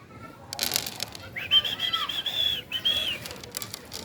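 Pigeons coo and flutter close by at a church, with wing flaps and rustling, soft throaty calls rising over a muffled outdoor background.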